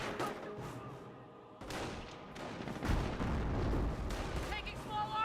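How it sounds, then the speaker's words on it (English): Small arms fire in Company of Heroes, a World War II strategy game, with repeated sharp gunshot bursts and booming impacts under a steady battle din, while a caster talks over the action. "Taking small arm fire here!"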